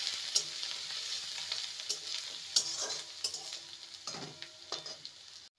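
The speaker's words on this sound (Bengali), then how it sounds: "এবার দিয়ে দেব আদা আর কাঁচা লঙ্কা একসঙ্গে বেটে রাখা। ভালো করে ভেজে নেব।" Ginger and green chili paste sizzles and fries in hot oil with whole spices for a white potato dum, with steady crackling and a spoon stirring and scraping the pan at irregular intervals, close and fairly loud.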